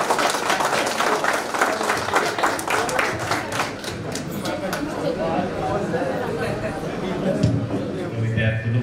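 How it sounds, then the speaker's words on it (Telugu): Audience at a school reunion get-together party for the Shantiniketan School Gajwel 2009-10 batch claps steadily for several seconds, a dense continuous patter with crowd chatter mixed in throughout. "సాధారణంగా అందరు గట్టిగా క్లాప్స్ కొట్టండి."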